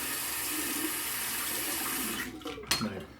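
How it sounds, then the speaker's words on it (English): Warm water runs steadily from a tap for a quick rinse after a straight-razor shave, a soft hissing stream that thins and sputters near the end. "Quick rinse off with the warm water."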